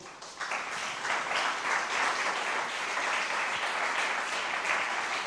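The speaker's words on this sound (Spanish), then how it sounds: "Dele otro aplauso al Señor" A church congregation applauding together during a Spanish-language sermon on the Second Coming, a steady, full wash of clapping that starts abruptly and holds evenly throughout.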